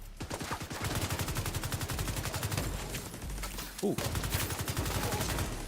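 Turret gunfire in The Division 2 on hardcore permadeath: loud, rapid automatic bursts in a steady rhythm nearly throughout, with one brief break, and a short exclamation from a voice partway through.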